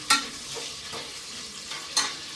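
Onions frying in oil for vegetable biryani, a soft continuous sizzle broken by a few sharp stirring scrapes, close and moderately quiet.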